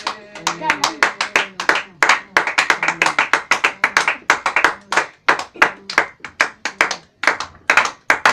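Congregation clapping together during a church worship service, loud rhythmic claps in quick regular bursts with brief pauses, close and sustained, with voices faintly mixed in.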